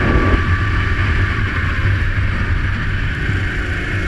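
Go-kart racing on a track, its engine a steady loud buzzing drone mixed with heavy wind rush, continuous and close throughout.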